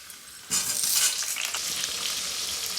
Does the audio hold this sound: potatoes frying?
yes